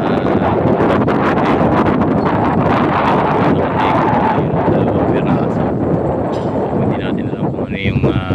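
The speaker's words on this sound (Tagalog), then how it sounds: "Ayan, medyo mahangin, pasensya na kayo." Loud, blustery wind buffets the microphone throughout at a railway project site in Santa Rosa, Laguna, a constant roaring rumble with someone speaking faintly underneath it.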